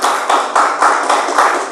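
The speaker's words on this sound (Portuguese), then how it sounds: "Palmas para Jesus, irmãos." A church congregation claps hands together in steady rhythmic bursts, roughly five or six pulses of dense clapping, loud and close, with no talking over it.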